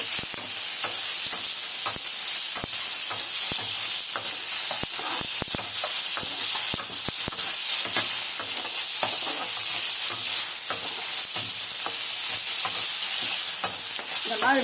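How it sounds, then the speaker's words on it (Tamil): Curry leaves frying in oil in a pan for fish curry, a steady loud sizzle with frequent sharp pops and crackles and occasional spoon scrapes throughout, no talking. "அதனால் இதெல்லாம் போட்டுட்டு நல்லா வதக்கணும் கண்ணுங்களா."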